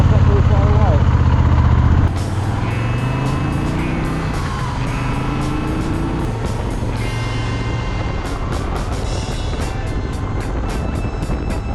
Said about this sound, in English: There's cars not very far away.